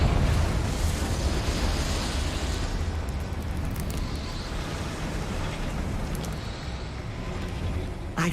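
A Confringo blasting spell erupts in Hogwarts Legacy, a loud rumbling explosion that roars at once and slowly fades into a broad noisy wash.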